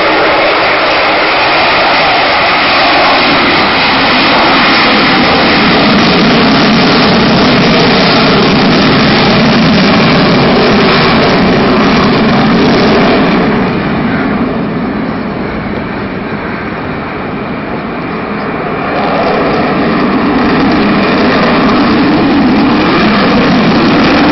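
A loud, sustained roar from the Avro Vulcan XH558 jet bomber's engines at the RIAT air show, 2012, with a howling, whining edge, dipping briefly midway before swelling again; no voices.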